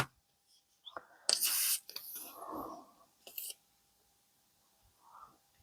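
Small scissors snip a piece of scrap paper for a vintage blue-toned journal page, giving a few short, crisp bursts of cutting with quiet gaps between them.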